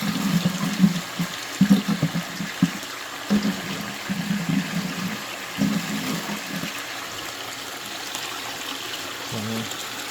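Water from a pump runs with high flow through a basement gold panning sluice set at a seven-degree pitch. It makes a steady, moderate rushing wash, with low gurgling surges and occasional knocks throughout.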